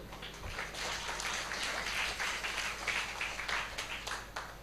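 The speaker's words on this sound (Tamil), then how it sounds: "அதுக்காக நீங்க கைதட்டு கொடுக்கணும்." A church congregation claps for the musicians, a steady, fairly faint wash of many hands applauding together with no talk over it.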